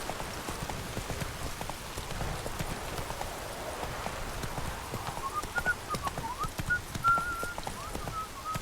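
The horse Roach gallops in The Witcher game, a quiet rapid hoof rhythm under a soft rain-like hiss, with a few faint whistling tones toward the end.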